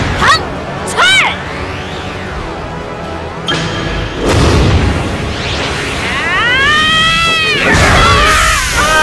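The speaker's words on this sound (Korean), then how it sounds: "함재수가 에너지를 견디지 못하고 폭발했어" A cartoon explosion as an overloaded creature bursts in an animated fantasy series, a loud boom and crackling burst cutting in around the middle amid music and effects, with shouting voices and chirpy sounds around it.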